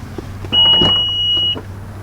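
A 2019 Honda CR-V Touring's hands-free power tailgate sounds a single sustained electronic beep lasting about a second as it starts to open, loud and close, over a low idling hum.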